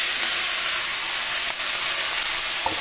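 Chopped red amaranth greens drop into hot oil with fried garlic and chilli, giving a steady, loud sizzling hiss that runs throughout with no talk.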